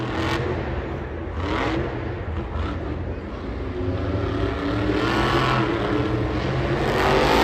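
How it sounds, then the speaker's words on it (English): A monster truck engine roars and revs at Monster Jam in Glendale, a loud sustained drone with rising throttle surges in a stadium, crowd and announcer faintly underneath. "So the truck's just flying all over the place."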